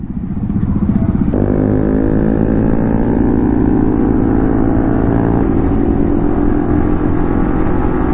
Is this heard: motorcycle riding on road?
yes